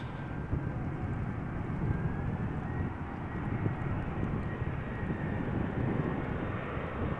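Air France Airbus A320 jet airliner touching down in crosswind at Amsterdam Schiphol Airport, a steady broad engine roar with a faint high whine, heard from a distance without any talking.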